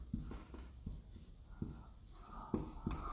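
Chalk tapping and scraping on a board during a physics lecture on refraction of light, a series of short knocks and strokes roughly every half second, fairly close and clear with no talking.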